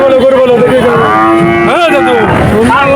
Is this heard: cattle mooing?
yes